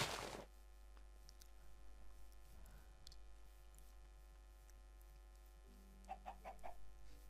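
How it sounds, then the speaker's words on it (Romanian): Chickens clucking in the Minecraft video game, a few short soft clucks near the end over a faint steady hum and quiet background, no talk. "Niște găini. O să avem nevoie de ele."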